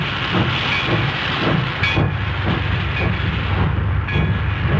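Loud, steady hiss of a steam train with rhythmic chugging and faint clanking underneath, continuous throughout, no voices.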